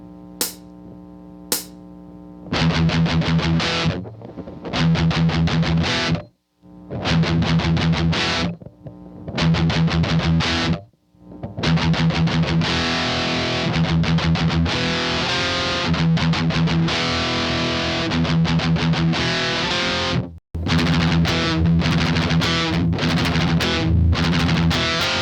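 Heavily distorted electric guitar chugs fast palm-muted E5 and F5 pedal tones in tight repeated bursts, broken by brief silent gaps, loud and up close with no voices.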